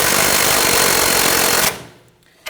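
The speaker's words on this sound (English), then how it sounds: "Using an 18mm socket to go ahead and tighten this down" An impact or power wrench drives an 18mm socket onto a front sway bar link lock nut on a 2017-2020 Hyundai Elantra, a loud steady buzzing rattle lasting under two seconds, then a short quiet tail and one sharp click.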